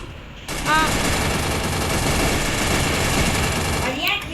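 MP5 submachine gun fire in a shooting video game, a loud rapid continuous burst of shots lasting several seconds, with a brief voice and other game sounds around it.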